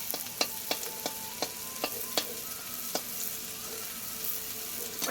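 Finely chopped garlic sizzling in hot oil in a pan, a low steady crackle with a string of crisp spatula taps and scrapes, loudest early on, then mostly a gentle sizzle.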